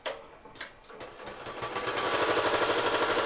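A BAi Mirror embroidery machine stitches text onto a holiday bag tag, starting with a few separate clunks and then settling into a fast, steady mechanical chatter, close and alone.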